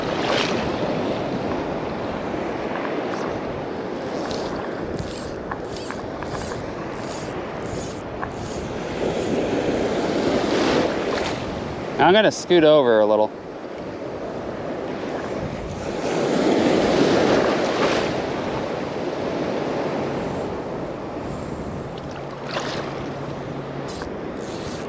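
Ocean surf breaks and washes along a beach while fishing from the shore, with broad rolling swells of noise and gusty wind buffeting the microphone; someone says a few words partway through.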